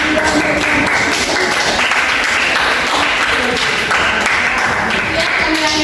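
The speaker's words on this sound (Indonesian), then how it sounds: "Kita kasih aplaus." A classroom audience applauds a student group after their presentation, dense, steady clapping that fills the whole stretch at close range with a few voices mixed in.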